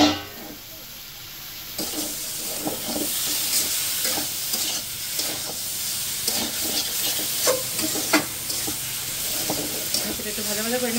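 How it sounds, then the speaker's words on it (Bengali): Kochur loti, taro stolons, fry in a pan with fish already in it. A constant close hiss and sizzle runs under frequent scraping stirs and spatula knocks, with no talk over it. "একটু ভাজা ভাজা করে নেবো"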